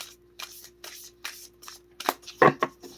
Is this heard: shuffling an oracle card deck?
yes